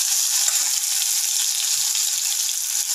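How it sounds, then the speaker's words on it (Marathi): Mustard seeds, cumin and ginger-garlic paste fry in hot oil for a mango bhaji tempering, giving a steady, bright, close sizzle that holds evenly throughout with no voices. "चिमूटभर मोहरी, अर्धा चमचा जिरे, अद्रक लसूण पेस्ट व्यवस्थित फ्राय करून घ्यायची"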